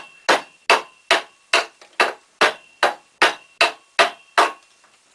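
A kitchen chopping utensil from a salad-serving set strikes down about eleven times in an even rhythm, each cut a sharp, loud, close knock with a quick decay.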